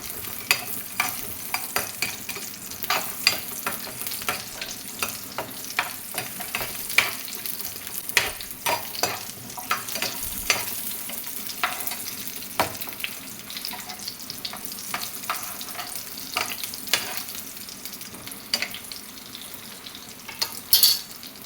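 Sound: small onions sautéing in oil

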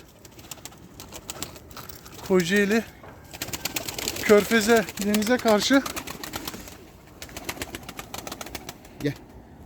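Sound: male tumbler pigeons cooing in a loft

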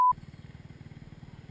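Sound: dirt bike engine revving while climbing a hill

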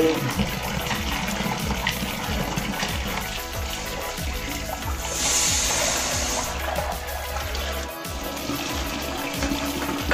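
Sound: washing small fish in water

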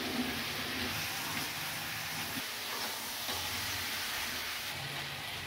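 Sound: chicken meat being sautéed in pan

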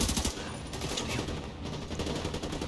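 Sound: video game gunfire

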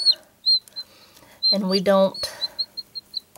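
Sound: chickens clucking in a chicken coop

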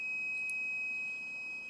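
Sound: Fluke VoltAlert voltage tester beeping near sensor

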